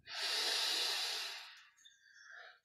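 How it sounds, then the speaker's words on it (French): A deep, drawn-in breath taken during a guided Kriya Yoga breathing exercise, a loud, airy hiss lasting about a second and a half, then trailing into softer breathy sounds, close to the mic with no talking. "On prend une grande inspiration."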